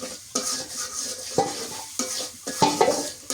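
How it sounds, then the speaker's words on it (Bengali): A river fish curry, made with a large aair fish, cooks and sizzles in a pan while a utensil scrapes and stirs it in repeated sharp strokes, with a steady frying hiss between them and no voices. "আমি রান্না করতেছি, এখন এখানে রান্না করতেছি।"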